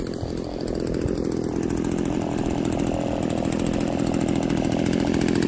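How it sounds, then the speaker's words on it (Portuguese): A chainsaw runs steadily and loudly throughout, cutting while trees are pruned in front of a house under renovation, with no pauses or voices. "Eu tô indo cortando e o Felipe vem limpando."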